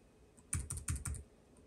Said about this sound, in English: Looks like it is typing. This is a test of the Lenovo TrackPoint 2.